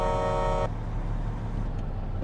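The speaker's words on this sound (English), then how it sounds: "I do a little honk honk." A truck horn in the American Truck Simulator video game gives one loud, steady honk lasting under a second, then cuts off, leaving a low truck engine drone rumbling on.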